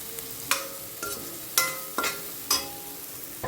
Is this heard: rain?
no